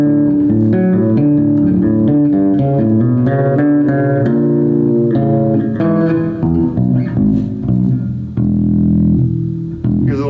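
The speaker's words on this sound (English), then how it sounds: "I got a little reverb, which is kind of cool" A bass guitar run through a reverb pedal plays a steady sequence of plucked notes and chords, ringing clearly and close up with no voices, and a brief wash of reverb tail trails off at the end.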